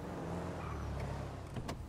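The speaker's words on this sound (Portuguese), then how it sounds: "Carro maneiro, amarelinho, né?" A yellow Cheval Fugitive car drives in the video game GTA V, giving a steady engine drone that holds level for about two seconds with a couple of brief clicks near the end.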